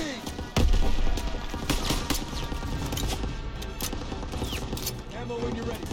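Battle din from the World War II shooter Call of Duty: WWII, with a heavy thump followed by dense, continuous machine gun and rifle fire, loud and close, with shouted voices mixed into the chaos.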